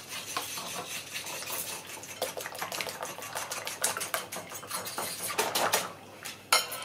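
Eggs and cream being whisked together in a bowl for royal toast, a steady run of quick clicking taps of utensil against the bowl, close and fairly loud, continuing without pause.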